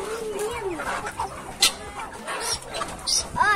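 Chickens cluck and squawk in short bursts at close range, mixed with some voices and scattered outdoor noise.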